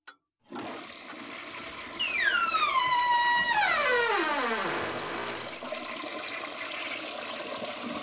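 Toilet flushing in a video game scene, a loud gushing rush of water with rising and falling whistling tones as the bowl drains, fading into a steady refill hiss.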